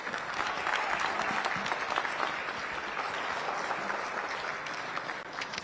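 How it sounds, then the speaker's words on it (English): Sustained audience applause fills a Chicago State of the City Address just before the national anthem, a dense, steady wash of clapping heard at close range for several seconds before easing slightly at the end. "Please give a round of applause for Miss Nealand"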